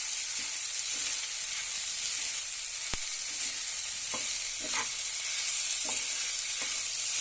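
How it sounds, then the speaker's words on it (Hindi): Broken wheat daliya fries steadily over a low flame, a continuous soft sizzle broken by occasional scraping stirs of a spoon against the pan, close and alone with no voices. "इस तरह से इसको फ्राई करते रहेंगे"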